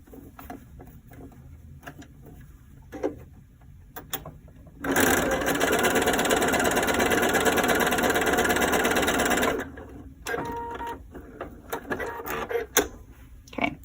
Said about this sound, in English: I'm going to now sew a 1/4 inch seam along the bottom